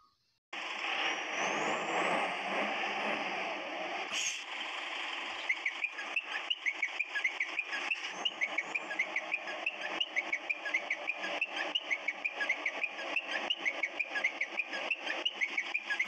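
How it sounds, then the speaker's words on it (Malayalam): Engine of a Kerala bus in a modded Bus Simulator Indonesia game, a steady mid-pitched drone that gives way to a rapid, regular ticking pulse like a reverse alert, heard alone. "നമുക്കിതിൻ്റെ റിവേഴ്സ് സൗണ്ടും അതുപോലെ തന്നെ സാധാ അതിൻ്റെ എൻജിൻ സൗണ്ടൊക്കെ ഒന്ന് കേട്ടോക്കാം"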